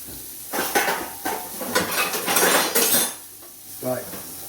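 Pork belly cooking in a hot pan in a home kitchen, with clattering pan and utensil knocks and scraping over a soft sizzle, steady for a few seconds before quieter clinks, with no talk.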